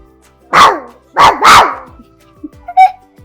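A voice imitates a dog, giving three loud, drawn-out barks in quick succession, followed by a couple of faint small sounds.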